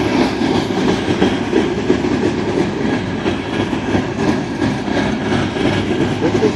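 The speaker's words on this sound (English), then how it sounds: "Oh, look at this cool thing. This is a cool train." A Norfolk Southern train with a high and wide transformer load and a Herzog work train rolls past in Charlottesville, giving a steady, close rumble of wheels and rail cars with faint clicking throughout.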